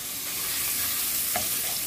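Ground meat sizzling and being stirred in a hot pan for Filipino mung bean stew, a steady broadband fry with a single spoon scrape partway through, close and continuous with no talking.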